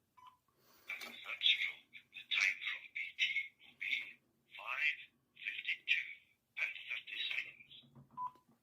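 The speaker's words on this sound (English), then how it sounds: "So dialing on the phone." A series of short electronic dialing tones from a smartwatch, about a dozen beeps in irregular bursts, fairly close and clear with quiet gaps between.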